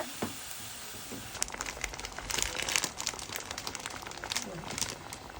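A plastic bag of dry pasta crinkles and rustles as half of it is emptied into a pot of tomato sauce with onion and garlic, quiet at first and then busier with irregular crackles.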